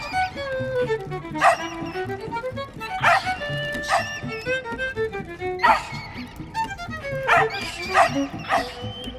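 A dog (a small white terrier) barks and yips repeatedly in quick, uneven bursts, close and loud over a busy animated adventure soundtrack with music.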